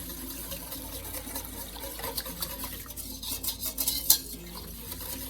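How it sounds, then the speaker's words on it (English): A whisk stirs broth into mushroom gravy in a pan, giving soft, quick scraping and clinking strokes against the pan under faint kitchen noise, with brighter metallic taps toward the end. "I'm going to add a little bit in, and I'm going to whisk until it's nice and smooth"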